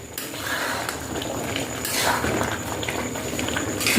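A pot of sweet rice boiling on a gas stove, a steady bubbling simmer with a soft watery patter, close and fairly even throughout, with no voices.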